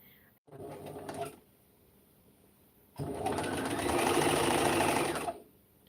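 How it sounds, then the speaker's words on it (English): A sewing machine runs a straight stitch down fabric in two bursts, a short run followed by a longer, steady whirring stretch, close and fairly quiet with no voices. "Okay, I am straight stitching it."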